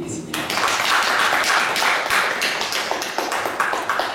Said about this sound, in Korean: 여러분, 우리 이사장 스님께 박수 보내드리겠습니다.